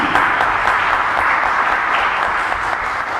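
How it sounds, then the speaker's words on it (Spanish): An audience claps to welcome a researcher to the stage at an academic talk, a steady, moderately loud wash of applause lasting a few seconds. "un aplauso para ella, por favor"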